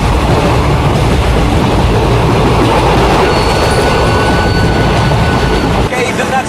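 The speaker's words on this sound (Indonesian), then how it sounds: "Dia juga menghancurkan mesin kendali kereta hingga kereta itu meluncur sangat cepat dan tak terkendali." Runaway train speeding out of control, a loud continuous roar and rumble of rushing rail cars with faint wheel squeal, changing abruptly near the end.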